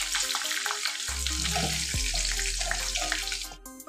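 Pointed gourd pieces frying in a pan on a gas stove, a steady close sizzle with a few soft tonal hums and clinks over it.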